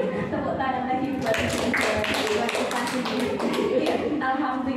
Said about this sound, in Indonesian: Tepuk tangan lagi buat